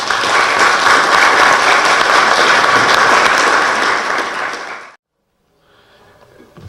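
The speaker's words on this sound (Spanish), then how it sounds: "Vamos a despedirlo con un fuerte aplauso." Loud, sustained applause from a conference audience sending off a professor after his keynote lecture, holding steady for about five seconds and then cutting off abruptly, followed by a faint rustle.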